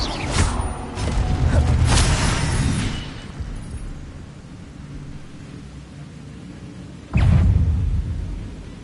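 A fire spell cast in Hogwarts Legacy bursts with a deep rumbling whoosh that swells and fades over a few seconds, followed by a second sharp, booming blast later on, with no talk.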